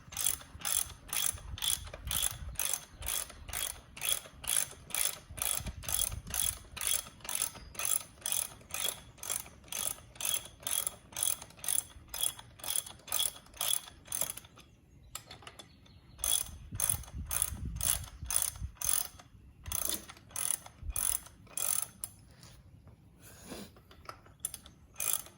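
A ratchet tightens a YZ125 motorcycle fork with fast, regular clicking strokes. The clicks run for a long spell with a few brief pauses, close and fairly quiet, with no talking.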